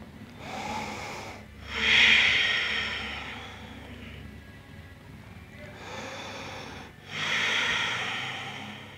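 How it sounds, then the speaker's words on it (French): Slow, fluid breathing during a yoga relaxation: two long, soft breath cycles, each a broad airy rush rising and fading, heard close and alone in a quiet room. "Une respiration fluide."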